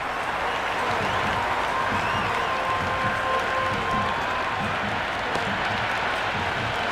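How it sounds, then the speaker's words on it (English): A large stadium crowd in the video game Cricket 26 roars steadily, a dense continuous wash of cheering and applause with a faint whistle-like tone, no commentary heard. "Listen to that crowd. They are loving this."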